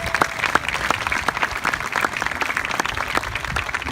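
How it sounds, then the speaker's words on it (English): Audience applause for the coaches at a youth baseball camp, steady dense clapping from a crowd lasting the full stretch without talk. "Let's hear it for our coaches."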